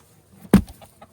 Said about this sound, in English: The chickens will go after them